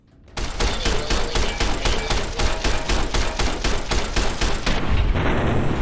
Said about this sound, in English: let's try this service rifle on him